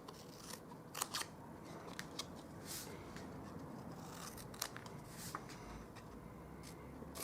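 Scissors snip through cardstock for a Stampin' Up! 3D Easter basket, a quiet run of short, crisp cuts at irregular intervals, close and alone with no talking.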